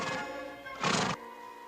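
A horse whinnies in two bursts, a brief one then a louder, brighter neigh, close and clear with no talk over it, in a Western farm setting.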